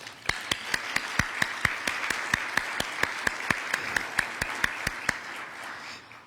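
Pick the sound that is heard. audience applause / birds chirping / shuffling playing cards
audience applause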